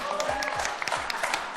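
Applause from a studio audience on a Georgian talk show, a lively scatter of claps and crowd noise at moderate loudness, with some voices mixed in.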